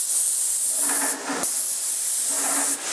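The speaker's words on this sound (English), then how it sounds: "it's so nice to have a freaking nice sprayer" A paint sprayer applying Scuf-X paint in a room gives off a loud, steady airy hiss in two long passes with a brief break between them, close and alone.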